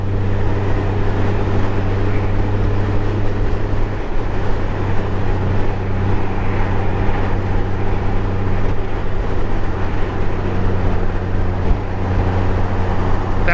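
A 2023 Honda Gold Wing motorcycle cruises along a road near Buffalo, its engine making a steady, loud, even drone with road and wind rumble throughout and no pauses.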